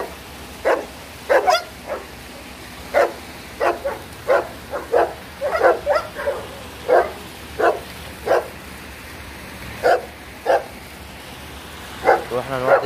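A dog barks repeatedly in short bursts, some single and some paired, fairly close and loud, with a few yips between pauses against a quiet background.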